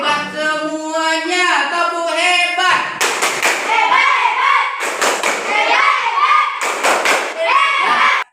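A fifth-grade class in an Indonesian school performs the 'tepuk hebat' clap chant: children's voices chant together in a rising melody, then bursts of loud group clapping arrive in three rhythmic waves mixed with shouted chanting.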